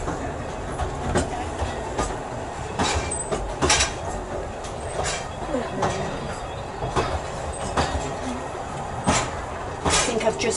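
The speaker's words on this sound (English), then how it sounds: "That's the down train." A passing down train rattles by with rhythmic wheel clicks and clunks over the rails, fairly close and steady, while people talk quietly nearby.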